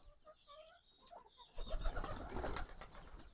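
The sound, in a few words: domestic pigeons cooing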